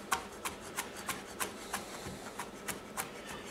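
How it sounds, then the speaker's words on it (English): Cleaver chopping garlic on a board for dumpling filling, a steady series of about a dozen crisp, evenly spaced knocks, close and moderately quiet. "I do want to rub the garlic after with the cleaver so it makes nearly a paste"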